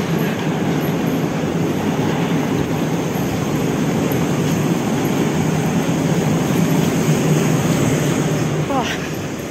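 Continuous rumble and hiss of a Moscow metro train running, with a faint squeal near the end; broadband noise throughout.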